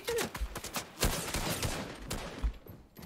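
Gunfire in Fortnite comes in quick, sharp bursts of overlapping shots at close range, loud and rapid at first and then thinning into scattered single cracks.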